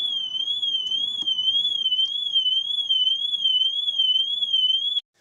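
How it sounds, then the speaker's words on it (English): A Fisker Ocean car alarm wails loudly and continuously, a warbling electronic tone rising and falling in a fast regular cycle, heard from inside the car, then cuts off abruptly. "now I'm in the car, the alarm's going off"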